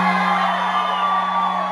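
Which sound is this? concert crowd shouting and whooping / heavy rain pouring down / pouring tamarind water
concert crowd shouting and whooping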